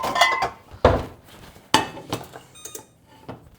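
A cooking pan is pulled out and set down amid clanking cookware, a few sharp metallic knocks and clinks close by, no talk.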